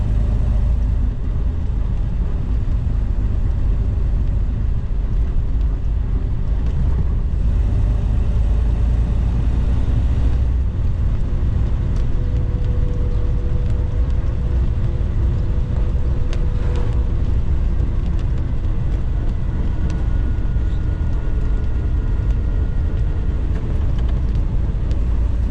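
A Springfield New Phantom Regent motorcycle pulls away from a rolling stop in second gear, its engine a steady, close low rumble that carries on throughout with no voices.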